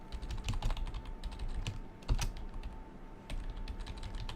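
Fingers tap rapidly on a computer keyboard while code is being written, an uneven run of close, crisp key clicks with a few louder strikes, steady throughout with no voices over it.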